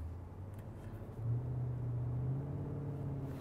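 A 2022 Nissan Patrol V8, in four-high and rock mode, climbs a rocky off-road ledge as the engine's low drone swells into a steady, louder rumble under throttle, heard from inside the vehicle.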